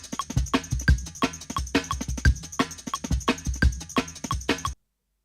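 A soul drum break sample played at double speed loops with rapid kick and snare hits and bright cymbals, in a quick, choppy rhythm before cutting off abruptly.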